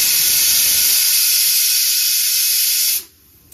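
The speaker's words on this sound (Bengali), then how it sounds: "দেখো কি সুন্দর সিটি পড়ছে।" A pressure cooker whistle blows on a kitchen stove, a loud steady hiss of escaping steam that holds for about three seconds and then cuts off abruptly, leaving near silence.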